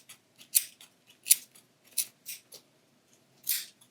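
Scissors snip through yarn being trimmed for a pom-pom, giving about eight short, crisp cuts in an irregular rhythm, close and clear with quiet gaps between them.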